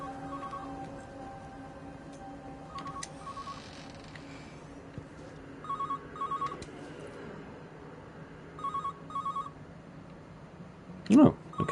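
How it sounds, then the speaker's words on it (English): In the video game Everybody's Gone to the Rapture, an old telephone rings in short double bursts repeated at intervals, mid-distance and fairly faint over a low ambient drone, with a louder knock near the end. "I hear another phone."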